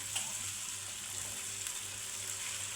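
Mushrooms sauté with ground spices in a pan, giving a soft, steady frying hiss that stays low and even throughout, with no talking.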